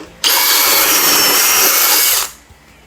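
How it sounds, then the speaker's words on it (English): Power drill boring a pocket hole into a board end with a Kreg jig, one loud, steady high-pitched whine lasting about two seconds that starts and stops abruptly, close to the microphone. "We drill on both ends of our material"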